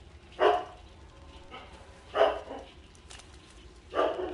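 A dog in the video game Life is Strange: Before the Storm barks in three separate muffled woofs spaced about two seconds apart over a quiet ambient background.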